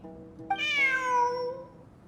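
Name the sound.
cat meowing in a video game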